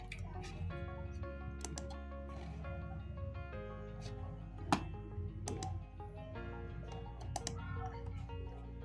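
Clicky keystrokes on a computer keyboard sound in quick irregular bursts, close and fairly quiet, while entering text in Adobe Photoshop.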